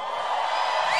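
A crowd at a church youth event cheers and whoops in a steady, loud wash of voices that holds for about a second.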